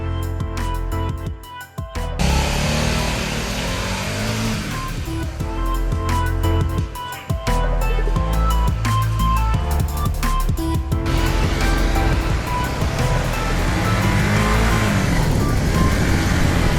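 Honda CBR 150R and Yamaha MT-15 motorcycles ride together on a highway, their engines droning loud and steady with rising and falling revs close by and a strong rush of wind throughout.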